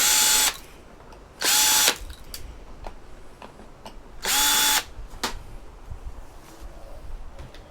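A power drill removes screws from a vintage PC board in three short, loud whirring bursts, separated by quiet pauses filled with faint ticks and clicks of handling.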